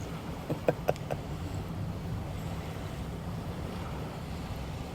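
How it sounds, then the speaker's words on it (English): Steady low rumble of wind buffeting the microphone outdoors near water, with a few faint knocks early on and no voices. "It's just a gray, wet, windy, overcast day, guys."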